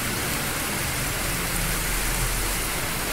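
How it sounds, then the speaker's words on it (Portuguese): Heavy rain pours down in a steady, dense hiss during a downpour in coastal São Paulo state, loud and close throughout with no voices. "Chovendo, chuvarada."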